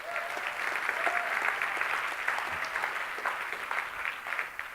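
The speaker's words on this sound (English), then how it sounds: "Give him a nice round of applause." A seminar audience gives a steady round of applause, a dense wash of clapping at moderate distance lasting several seconds without talk.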